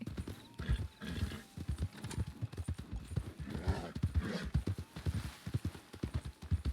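Video game horse hooves clip-clop in a steady walking rhythm, close and clear, with a brief whinny and faint background sounds.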